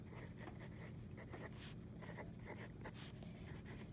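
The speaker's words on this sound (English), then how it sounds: "So we're gonna write." Pen or pencil writing on paper during a math lesson, a faint, steady scratching with short strokes, close and alone without talk.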